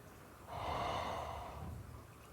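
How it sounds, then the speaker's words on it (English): A single heavy breath sounds close to the mic at the start of a stream. It swells after about half a second, holds as a breathy rush for roughly a second and a half, then fades. No one speaks. "The stream starts with a breathing noise."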